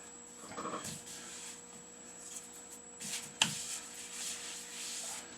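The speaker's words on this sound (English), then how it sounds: "some more sanding and this will start coming up nicely" Steady scratchy rubbing of 180-grit sandpaper worked back and forth over a hollowed wooden piece by hand, close and continuous, with a few louder strokes.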